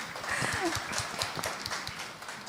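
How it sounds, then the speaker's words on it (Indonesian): Church congregation clapping during a Sunday service in Jayapura, a dense patter of hand claps in a large hall, steady for a couple of seconds with faint voices mixed in. "Oke, boleh tepuk tangan."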